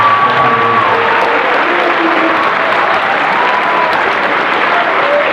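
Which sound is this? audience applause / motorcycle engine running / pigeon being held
audience applause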